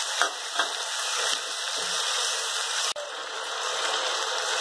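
Potatoes sizzle loudly in a hot pan with garlic chutney, a steady hiss of frying with a few scraping stirs and clicks from a utensil, no voices.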